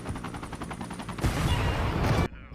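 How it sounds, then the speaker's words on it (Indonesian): A heavy helicopter explosion in a film bursts in loud and broad, with rumbling debris over rapid popping blasts, then cuts off abruptly into near silence. "helikopter tersebut langsung meledak"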